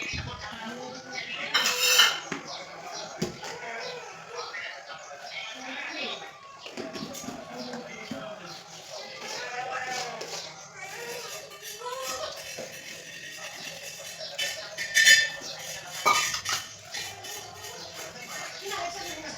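Ugadi pachadi mixed in a bowl with utensils, giving clinks and scrapes of metal against the bowl, with a louder clatter near the end, under a voice talking throughout.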